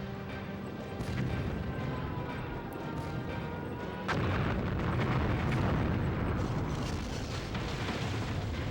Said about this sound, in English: Now, we're just going to drop the nuke right here